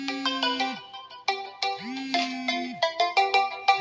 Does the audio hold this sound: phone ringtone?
yes